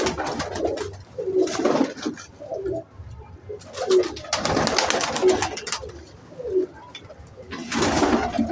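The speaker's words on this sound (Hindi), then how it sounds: "ये सारे जोड़ों वाले कबूतर हैं," Paired domestic pigeons, including Indian lakha and black jet fancy breeds, coo repeatedly, soft low rolling calls rising and falling nearby, with rustling and bursts of background noise between them.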